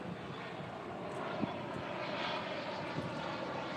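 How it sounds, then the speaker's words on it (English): A fixed-wing airplane flies overhead near a lake, its engine a steady broadband roar that stays loud and constant throughout, with no talking. "Will you guys be able to see the plane go?"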